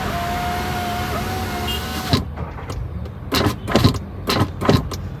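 Power window on a three-month-old Skoda Slavia whines as a motor hum while the glass travels, then gives a series of rattling knocks and creaks from the upper trim plastics.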